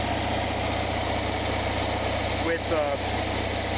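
An Onan genset engine runs at a steady idle, a continuous loud drone throughout, with a person speaking briefly over it.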